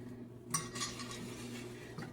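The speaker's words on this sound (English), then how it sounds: "I'm going to stir this up" A utensil scraping and clinking in a pan while stirring sugar, orange juice and water for homemade cranberry sauce, soft close taps over a faint background hum.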